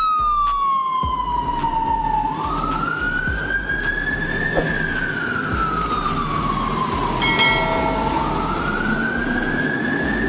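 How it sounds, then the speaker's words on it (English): A neonatal ambulance siren wails loudly and steadily, its pitch sweeping slowly down and up in long electronic arcs over a low engine rumble, with no voices. "This is neonatal ambulance."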